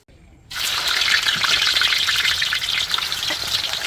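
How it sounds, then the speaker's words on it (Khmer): Pieces of banana are dropped a few at a time into hot oil and stirred as they fry. After a brief quiet start, a loud, dense, steady crackling sizzle takes over and carries on without talk. "បន្ទាប់មកខ្ញុំយកវាទៅបំពងដោយដាក់បន្តិចម្ដង"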